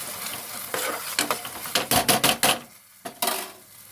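Stir-frying after homemade chilli paste goes into the pan: quick bursts of metal spatula scraping and clinking against the pan over a soft sizzle, coming in an uneven rhythm with brief pauses.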